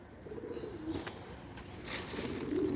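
Pigeons coo softly in a loft, low rolling calls repeating a few times at moderate distance, with faint rustling around them.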